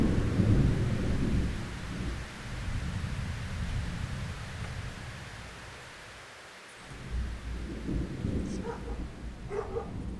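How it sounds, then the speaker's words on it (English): Rolling thunder from an approaching storm over an outdoor smoker setup, deep low rumbles swelling and fading across the clip, with a quieter lull midway before the rumble builds again, no talking. "The next storm is coming."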